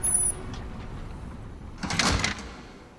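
Large doors slide open in a virtual reality scene, a single loud whooshing hiss with a low rumble that swells near the middle and fades, following a faint electronic tone.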